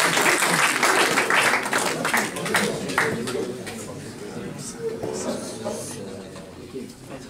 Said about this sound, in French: L'applaudissez, bordel.